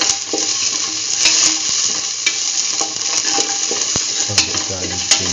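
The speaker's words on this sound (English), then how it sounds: "Now put in the garlic." Garlic stir-fries in a hot pan with loud, continuous sizzling and crackling, broken by repeated clicks and scrapes of a utensil stirring against the pan.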